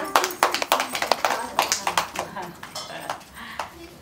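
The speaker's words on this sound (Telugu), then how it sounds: "మరి గట్టిగా క్లాప్స్ కొట్టండి." A small family group at home during a Krishna Janmashtami gathering claps for a child's song: sparse, uneven claps, fairly close and modest in volume, with voices talking among them.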